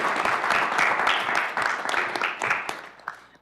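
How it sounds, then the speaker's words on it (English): Applause from a city council meeting audience in Waco, Texas, a dense burst of clapping that swells and then thins out over a few seconds. "Cue the applause."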